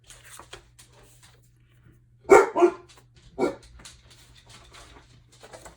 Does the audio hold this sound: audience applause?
no